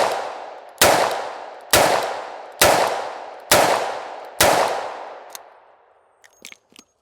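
Five loud, evenly spaced shots from a full-size handgun firing Hornady 158 grain XTP rounds, each a sharp crack with a decaying tail, followed by faint clicks and handling noises.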